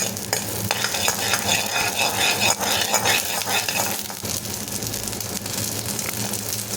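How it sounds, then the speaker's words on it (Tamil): About ten small peeled shallots fry in a little oil in a pan for mint chutney, giving a steady crackling sizzle with stirring scrapes and clatter throughout, close and alone. "அதே பேனில் கொஞ்சமாக எண்ணெய் விட்டுட்டு சின்ன வெங்காயம் ஒரு 10 சின்ன வெங்காயம் தோல் உரித்து ஆட் பண்ணிக்கோங்க"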